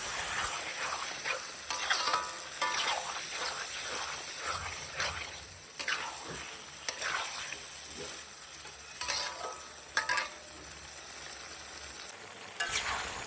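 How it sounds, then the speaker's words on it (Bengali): Marinated mutton sizzles and fries with masala in a pan for a Bengali mutton kosha, with steady crackling and repeated stirring scrapes close by and no talk. "এখন এখানে আগে থেকে ম্যারিনেট করা মাংসগুলো দিয়ে ভালো করে কষিয়ে নেব"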